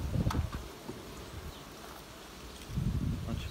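Native honeybees buzzing at an open hive of about twenty frames, a soft, continuous drone close by, with brief louder bumps of handling or movement near the start and end.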